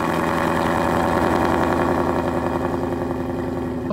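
A 2018-2019 Mustang GT fitted with Corsa headers, a Double Helix X-pipe and active exhaust idles close by with a steady, deep, loping rumble, loud and alone throughout.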